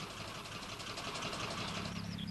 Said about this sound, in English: It has little more than a single-cylinder gas engine,